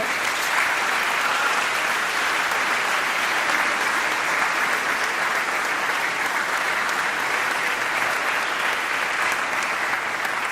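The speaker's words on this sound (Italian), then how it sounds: "si meritano un grandissimo applauso" A large audience at a choral competition's closing event gives sustained, dense applause for the sponsors, steady and even throughout with no voices rising above it.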